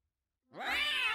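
A single cat meow from the Guild of Dungeoneering video game sounds alone after a moment of silence, clear, close and rising in pitch.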